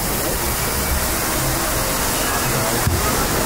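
Waterfall beside a Disneyland boat ride, a continuous broadband rush of falling water that stays loud and steady throughout, with no talk above it.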